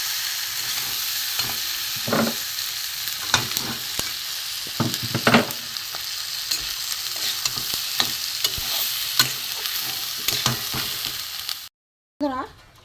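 Fried rice, lentils and vegetables are stirred with spices in a pot for vegetarian khichuri, giving a continuous close sizzle with repeated scraping and knocking of the spoon, and no talking, until it cuts off briefly near the end.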